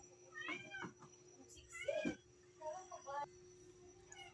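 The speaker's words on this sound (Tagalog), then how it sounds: "Ang ingay ng pusa ko mga lods." A cat meows several times nearby, drawn-out cries between shorter ones, with faint voices and a steady hum underneath.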